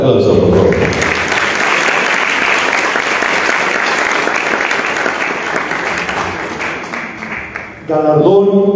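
Strong applause from an audience at a solemn commemorative ceremony honoring Indigenous women, dense and loud for several seconds, fading slightly before a voice speaks over a hall sound system at the end.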